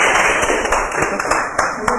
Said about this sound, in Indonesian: Oke, tepuk tangan buat Mas Ragil.